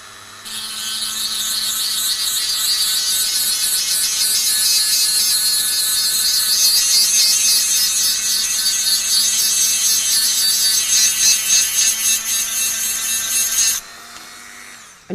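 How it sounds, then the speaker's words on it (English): Handheld rotary tool grinding calcium deposits off a seashell, a loud, close, continuous buzzing whir with rasping contact that holds steady for about fourteen seconds before cutting off. "you are going to be grinding off a lot of calcium"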